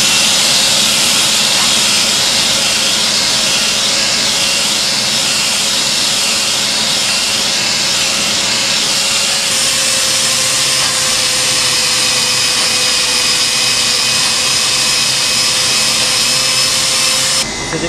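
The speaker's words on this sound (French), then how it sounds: "en allant creuser tout simplement, mais avec un marteau-piqueur" A jackhammer digs out the core of a bronze sculpture of a tam-tam player, giving a loud, continuous, dense mechanical roar that holds steady for the whole stretch and cuts off abruptly at the very end.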